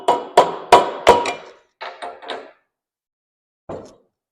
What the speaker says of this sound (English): going to have to grab a hammer.